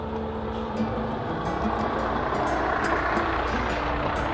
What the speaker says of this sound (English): Well, here comes the honey wagon.